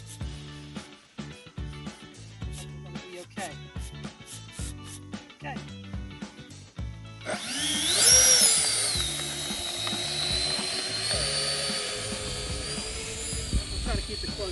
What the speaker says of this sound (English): I'm gonna do the maiden flight of the E-Flight A-10